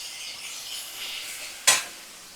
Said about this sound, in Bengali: পেঁয়াজটা 4-5 মিনিট আমি এভাবে ভাজা করে নেব